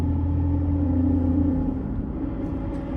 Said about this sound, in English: You can hear on and off throttle, it's kind of a different volume of noise with this pilot bearing, or whatever you want to call it, drive shaft bearing in the rear diff